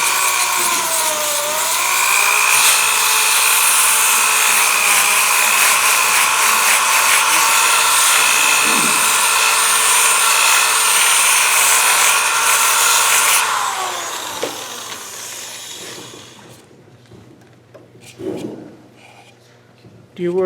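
A power sander does dustless oil sanding on a wood surface, a loud steady whine that runs up close and then cuts off, leaving quiet room sounds and a few soft knocks.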